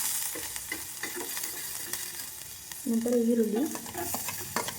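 Ginger garlic paste frying in ghee gives a steady sizzle with scraping stirring strokes, and a brief tonal whine or hum rises midway, all close and moderately loud.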